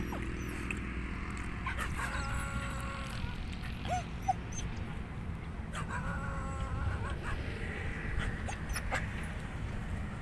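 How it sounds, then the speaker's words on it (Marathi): Two or three dogs bark and whimper over steady outdoor background noise while people sit down to eat during a trip to Tuljapur, with faint voices mixed in. "आणि ब्रुनो उड्या मारतोय कारण तिकडे 2-3 कुत्रे आलेत म्हणून ते इकडे त्यांच्या भुंकत."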